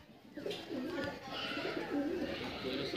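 Pigeons coo in a loft, soft repeated low burbling calls close by over a general background murmur, with someone speaking over them.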